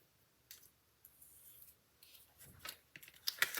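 Paper die-cut piece for card making cut out with scissors, a series of quiet, irregular snips and rustles that grow louder and denser toward the end, close by with no talk.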